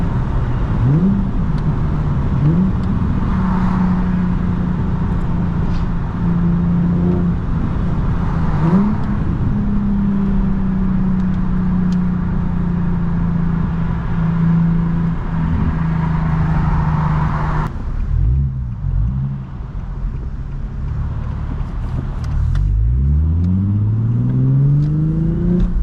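Stock Infiniti G37S with a six-speed manual, its exhaust revved repeatedly up and down, a loud close-up engine note rising and falling, dropping back near the end before climbing again.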